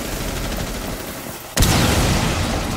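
Dense, continuous gunfire in the video game Rainbow Six Siege, loud and close, with a sharper burst partway through that brightens the roar of shots.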